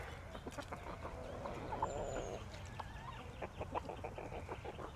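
Young chickens cluck softly inside a small chicken coop on a farm, a busy low chatter of birds with occasional louder calls, near and steady over faint background noise.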